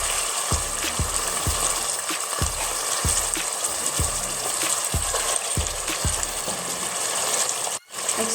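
Chicken sizzles loudly in hot ginger garlic paste for an Alu chicken curry, a steady close frying hiss broken by regular soft thumps of stirring, with a brief break near the end.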